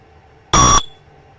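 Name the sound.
smoke detector alarm sounding when test button pressed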